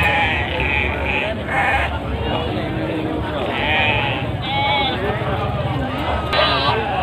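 Several goats bleat repeatedly amid a busy crowd at a livestock market in Munjungan, Trenggalek, Indonesia, with voices chattering and a steady bustle of market noise all around.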